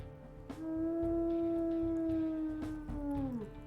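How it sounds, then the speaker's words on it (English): A wolf pup in the video game WolfQuest Anniversary Edition lets out a single long, clear howl that holds steady and then bends downward and fades, heard alone and fairly close. "I literally think that's Teo's howl."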